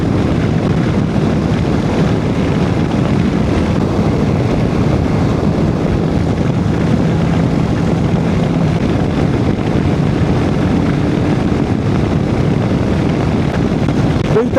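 Strong, steady wind buffeting and roaring across the microphone while riding a motorcycle in Andalusia, without a break, with a low rumbling underneath throughout, loud and close.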